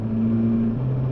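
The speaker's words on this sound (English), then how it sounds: "The engine's eager." A car engine revs with a steady, close drone that dips slightly in pitch near the end of the short burst.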